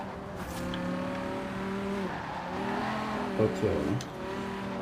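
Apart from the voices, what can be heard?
BMW M6 Coupe drifting, engine and tire squeal, video game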